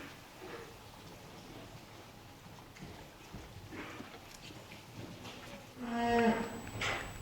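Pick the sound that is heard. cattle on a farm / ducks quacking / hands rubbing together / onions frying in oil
cattle on a farm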